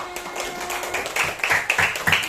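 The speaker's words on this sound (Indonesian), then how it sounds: "silakan berikan tepuk tangannya" A classroom of children gives a short burst of scattered clapping that grows denser toward the end, with faint voices mixed in.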